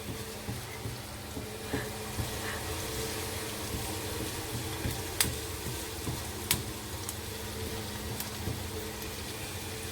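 Onions cooking in a pan for cheesy basil pasta, a steady low sizzle and bubbling hiss running throughout with a few faint clicks and taps over it, no talk.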